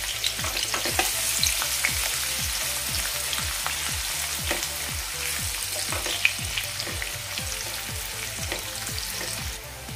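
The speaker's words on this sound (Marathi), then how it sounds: "इथे मी 2 कांदे घेतलेत उभे चिरून, ते मी यामध्ये भाजून घेते।" Two vertically sliced onions fry in a pan until soft, with a constant sizzle and regular scraping strokes as they are stirred, close and fairly loud with no voices.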